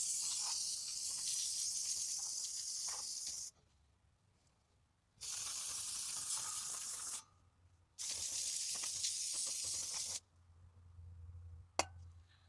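Three long, loud bursts of aerosol brake cleaner hiss from close by while cleaning the brakes of a 2010 Buick Lucerne, separated by quiet pauses, followed by a faint clink.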